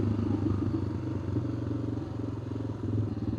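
A big single-cylinder thumper motorcycle on the move, its engine giving a steady low pulsing thump with faint rattling, close and continuous throughout.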